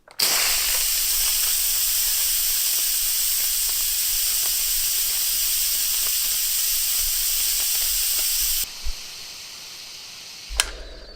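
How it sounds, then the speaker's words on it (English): Steam blasts from the quick release valve of an Instant Pot Duo Nova in a loud, continuous hiss lasting about eight seconds, cutting off abruptly, then a couple of faint clicks. "You saw the steam shoot out."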